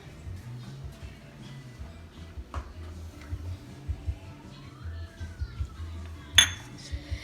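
Light clinks and scrapes of a spoon against a pot as sugar is stirred into milk, scattered irregular taps with one sharper ring near the end, low kitchen hum underneath.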